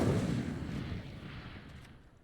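A deep fiery blast from the Incendio spell in Hogwarts Legacy, a quiet low rumbling whoosh that bursts at once and fades away over about two seconds.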